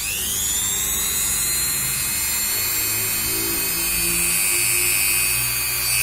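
A Kleiten mini die grinder runs at its lowest speed setting, a steady high-pitched electric whine with a faint motor hum underneath, continuous and close for about six seconds.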